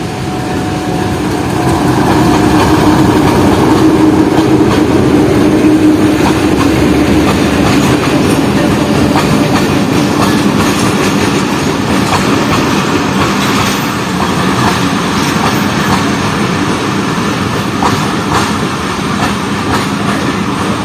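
Rawalpindi Passenger 267 rolling past at Golra Sharif station after rain, a steady loud rumble of wheels with faint clickety-clack and a hint of squeal, sustained close by for about twenty seconds.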